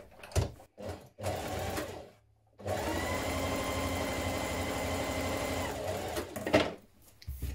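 A sewing machine stitches the underarm seam of a shirt dress, a few brief starts giving way to a long, steady, close whirring run before it stops. Speech is faint or absent.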